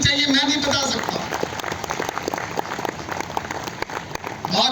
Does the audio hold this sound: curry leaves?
no